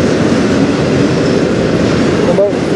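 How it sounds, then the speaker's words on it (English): A CN intermodal freight train rolls past in Sarnia, Ontario, a steady close rumble of wheels and cars with a brief squeal near the end, while someone talks over it. "Looks like it might be a real short train."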